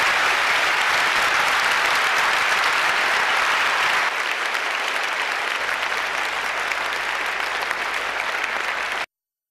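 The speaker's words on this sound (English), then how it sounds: "Ladies and gentlemen, please give Nadia, Tanja, and Daniel a big round of applause." An audience at a conference talk claps for the speakers in loud, sustained applause that holds steady for about nine seconds before stopping suddenly.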